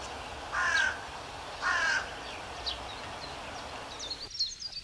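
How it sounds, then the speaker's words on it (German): Carrion or hooded crows give two loud, harsh caws about a second apart in a garden setting, followed by fainter scattered bird chirps. "Die Krähen trennt die Elbe in die westliche Rabenkrähe und die östliche Nebelkrähe."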